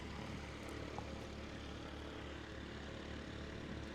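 A Super Cub propeller plane drones at slow speed during a short-takeoff-and-landing competition in the Rocky Mountains, a steady, faint engine hum heard from a distance with no voices.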